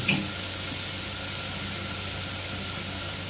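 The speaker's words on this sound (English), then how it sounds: "Add the curry leaves." Curry leaves hit hot oil for a ridge gourd curry, a sharp initial crackle settling into a steady, loud, close sizzle that continues without pause.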